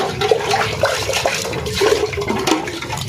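Water pours out of a milk vessel and is swapped for fresh, a steady, moderately loud splashing rush that runs continuously with no voices.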